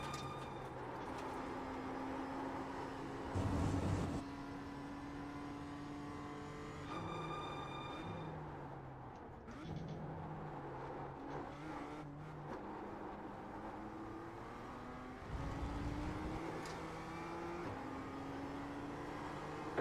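A race car runs a practice lap in the iRacing sim racing game, its engine droning and rising in pitch through the gears, with shifts and renewed acceleration across the lap at a steady, moderate level.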